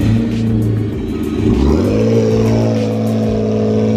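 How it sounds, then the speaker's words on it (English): A BMW revs hard during a burnout, its engine note climbing and then holding at a loud, steady high pitch, close by with no talk. "Get that burnout."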